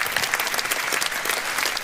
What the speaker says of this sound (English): Round of applause for some of our candidates here.